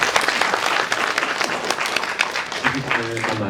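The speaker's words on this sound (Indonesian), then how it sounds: "Terima kasih, kita beri tepuk tangan." An audience at a philosophy talk applauds, a dense patter of clapping filling the room for several seconds before easing off.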